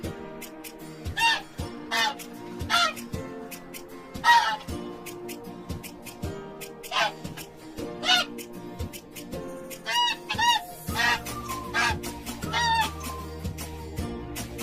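Repeated honking and cackling calls from poultry, loud and close, coming in irregular bursts over a steady background of farmyard noise.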